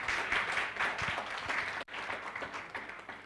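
Audience applause at an inter-university constitutional law moot court competition: many hands clapping in a dense, steady roar that briefly dips near the middle and then continues at full strength.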